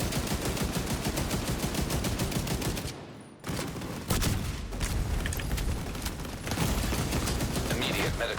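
Sustained rapid fire from a light machine gun in a shooter video game, long loud automatic bursts broken by a brief pause and short gaps, with talk mixed in.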